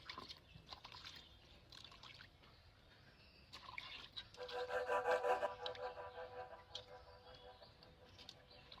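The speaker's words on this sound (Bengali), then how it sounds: "এই মাছটা একটু সুন্দর করে ধুয়ে নি মানে পরিষ্কার করে নিলেই ভালো হয়" A fish being washed with warm water, heard as faint trickling and splashing with handling noises, swelling into a brief stronger pour midway before settling back to quiet dribbles.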